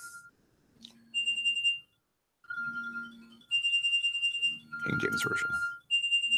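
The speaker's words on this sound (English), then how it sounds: "That is my alarm telling me I need to get ready to go pick up my kid." A phone alarm set as a reminder sounds in bursts of high, steady electronic beeping tones, loud and close, repeating with short gaps while a voice talks alongside.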